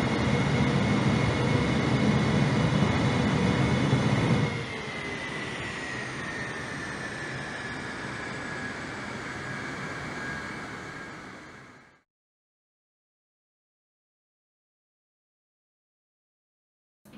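Boeing 747 jet engines roaring in reverse thrust in Microsoft Flight Simulator, a loud steady broadband rush that drops partway through, continues with a high whine, then cuts off to silence.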